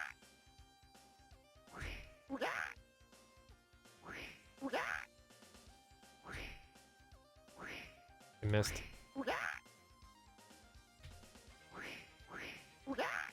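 Crazed ducks in a video game quack over and over in regular, fairly loud bursts throughout, while a player talks briefly between them.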